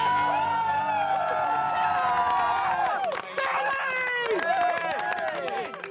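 A crowd gathered at the finish of a robot vehicle race cheers and whoops loudly, with children shouting among the dense, continuous roar of voices.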